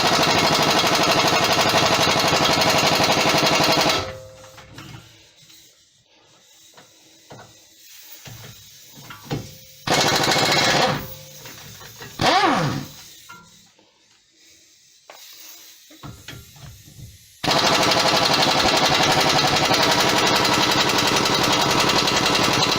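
A loud power tool removes the 21mm caliper bracket bolts on a 2006 VW Golf 2.0 TDI. It hammers in long, sustained bursts at the start and end, with short rattling spurts in the quieter stretch between.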